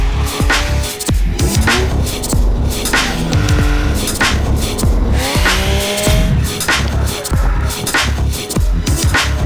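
A 2.5-tonne Ford F-150 Raptor pickup drifts sideways with its tires squealing in long wavering shrieks over a loud roaring engine, continuous and close.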